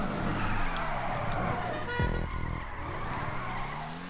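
A car in GTA 5 Online skids and spins out after a jump, tires screeching over a steady engine drone, with a sharp squeal sweeping through the middle of the moment.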